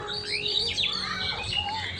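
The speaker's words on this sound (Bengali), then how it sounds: "গাছের মধ্যে যে পাখিগুলা উঠতেছে, কি পাখিগুলো এটা কে জানে, কিচির মিচির করে ডাকতেছে।" Small birds chirp and twitter from the trees on a foggy winter morning in rural Bangladesh, a busy overlapping chorus of bright, quick calls at moderate distance over a low steady background.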